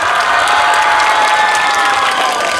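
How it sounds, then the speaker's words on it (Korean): A crowd of about 300 teenagers at a youth meditation festival concert gives loud, continuous applause mixed with some cheering. "다시 한번 큰 박수를 부탁드립니다."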